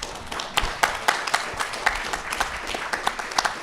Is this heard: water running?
no